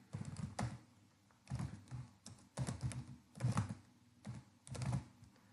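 A computer keyboard being typed on up close while entering text, with about five quick bursts of clattering keystrokes separated by short pauses.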